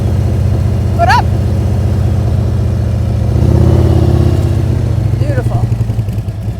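A motorcycle idles and then pulls away in first gear as the throttle comes up, its engine a steady close rumble that swells briefly, with a voice speaking over it.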